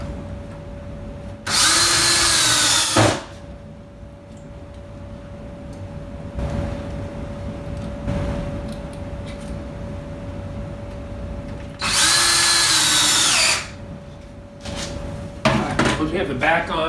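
Power drill driving screws into wood while assembling a barn owl nesting box: two loud, sustained whirring bursts, each lasting about a second and a half, set well apart, with quieter workshop handling noise and brief talk between them.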